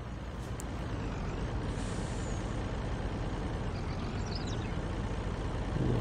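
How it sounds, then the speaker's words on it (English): Heavy Peterbilt truck engine droning steadily in a farming video game, with a hiss of air brakes near the start and the loud rumble holding throughout. "Looks like the Peterbilt's getting back just fine."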